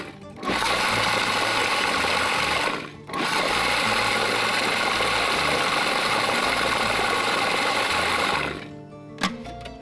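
A blender purees the ingredients for chicken with zaatar, giving a loud, steady motor whir that dips briefly once and stops shortly before the end.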